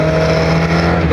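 Steady, loud engine drone from an MST Mk1 Ford Escort rally car with a historic-style engine and Ford Type 9 five-speed gearbox, heard from inside while driving, a continuous even hum with no talk.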